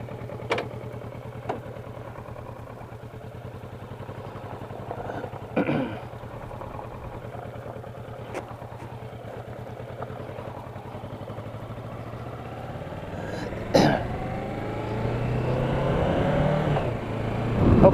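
A Kawasaki Versys 650 LT motorcycle fitted with a Puig windshield hums along at a steady low engine drone, with a few sharp bumps and a rising rev and wind rush toward the end.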